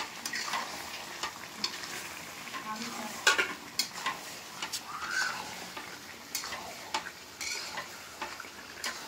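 Mutton pieces being stir-fried in a pan, with a soft continuous sizzle under repeated scraping and clinking of a spatula against the metal, fairly quiet and close.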